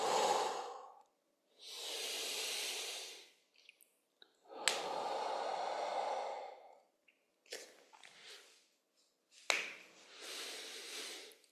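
Slow, deep breaths in and out during a hip mobility exercise on all fours, rocking forward and back, each long airy inhale or exhale followed by a pause, close and alone.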